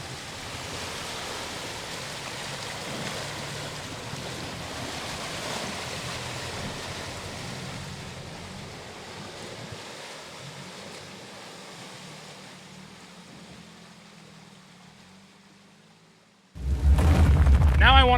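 A Toyota Tacoma off-road truck drops into water, a broad rushing wash of splashing and engine rumble that slowly fades over many seconds before a sudden loud burst of noise near the end.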